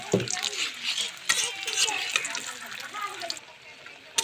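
Wheat flour biscuits frying in hot oil in a pan, a steady sizzle and bubbling with scraping and stirring clinks and a few sharper knocks throughout.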